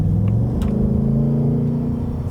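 A deep, loud 2024 Ford Mustang engine rumbles steadily nearby, its low throaty drone swelling slightly as it revs, with no voices.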